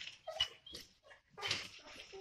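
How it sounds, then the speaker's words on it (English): A Doberman and a German Shepherd playing together, giving short whimpers, yips and snuffling grunts in uneven bursts, close by and fairly quiet. "These are my two dogs. They are really awesome dogs."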